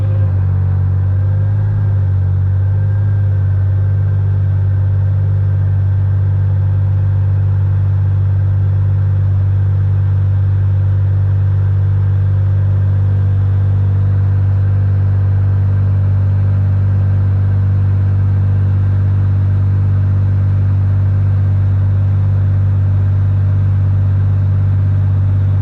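Air-cooled Porsche 911 engine with individual throttle bodies running on a dyno, held at a steady 2,000 RPM, giving a loud, constant low droning hum that stays even throughout with no speech.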